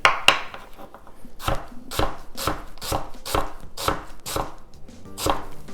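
A knife slicing onion thinly on a cutting board, about ten sharp, evenly spaced chops heard close and clear with quiet pauses between them, no voices.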